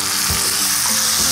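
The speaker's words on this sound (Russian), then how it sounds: "Так, доводим бекон до золотистого цвета." Bacon frying in a pan, a loud, close, continuous crackling sizzle with bright spitting fat and a few faint clinks of utensils, no voices.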